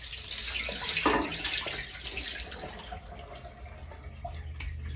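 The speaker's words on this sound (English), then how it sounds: "So I've washed them off. I'm going to drain them now." Washed chicken gizzards drain in a sink, with running and splashing water under a faucet fading to drips and trickles, close and steady without talk.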